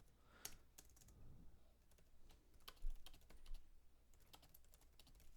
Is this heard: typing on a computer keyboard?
yes